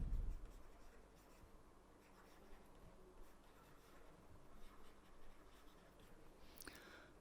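Equations being written on a board during a physics lecture on virtual work, faint continuous scratching strokes over a quiet room hiss, with no speech.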